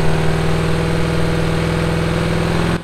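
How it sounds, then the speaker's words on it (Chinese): A modified car engine at a night-time police checkpoint is held at high revs during a noise test, giving a loud, close, sustained mechanical drone of steady pitch that cuts off abruptly at the end. "环保局人员不断地吹油门"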